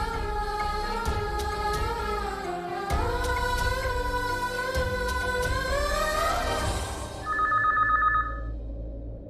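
A landline telephone rings in a household, its bell trilling through a loud dramatic musical score that nearly covers it, with a few clearer rings standing out near the end.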